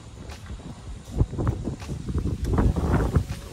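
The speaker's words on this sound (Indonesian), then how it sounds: "Anginnya terlalu kencang." Strong wind gusts over an open, sandy area in Nusa Tenggara Timur, a steady rumbling buffet against the microphone with rustling bursts, loud and close.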